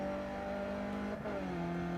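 A Skippy race car engine in the iRacing driving simulator, shifted with a sequential shifter, holds a steady buzzing drone. About halfway through it dips briefly at a gear change, then settles at a lower pitch.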